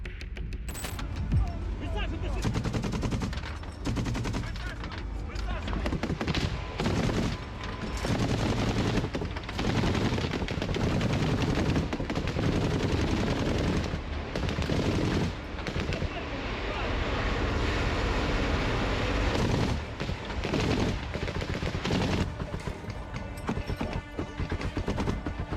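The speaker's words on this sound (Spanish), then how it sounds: "el estruendo de su arma inundó el ambiente" Combat gunfire from soldiers' weapons in a war zone, a long stretch of loud rapid bursts and rattling shots over rushing wind and roar, close and continuous, with a voice talking over it.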